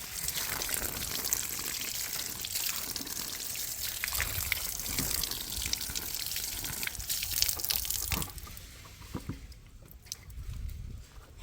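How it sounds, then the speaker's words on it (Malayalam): Shoes rinsed under running water: a continuous splashing gush with trickles and drips, fairly quiet and close, thinning out toward the end. "ഇനി നമുക്ക് ജസ്റ്റ് വെള്ളത്തിലൊന്ന് കഴുകി വിടാം"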